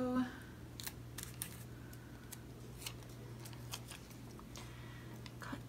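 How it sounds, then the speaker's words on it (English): Scissors snip through paper while trimming a piece for a weekly health and fitness planner, a series of short, crisp cuts and light rustles close by over a faint steady hum. "And then we're gonna cut this bit out."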